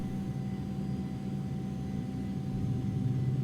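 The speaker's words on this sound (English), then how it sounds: "And we'll get this left engine over to start." The left engine of an aircraft in the X-Plane flight simulator starts up as a steady low rumble and broadband whir with a faint constant tone, even and continuous, with no talking.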